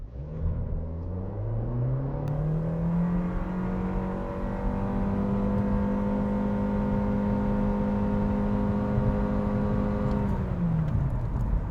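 A 2021 Nissan Kicks with a naturally aspirated 1.6-liter engine accelerates, engine note rising steadily through gears with a continuous drone and road rumble heard from inside the cabin, no talk.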